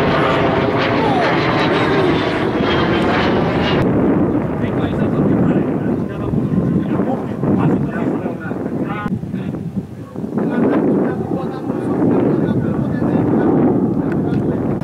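A T-50 military jet flies over during an Indonesian Air Force combat exercise, a loud broad roar that swells and then eases, buffeted by heavy wind noise on the microphone.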